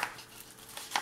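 Cutting card for a scrapbooking album: a brief, close snip or slice with a couple of soft crisp clicks at the start and end, quiet and alone.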